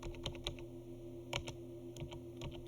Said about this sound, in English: And we're going to type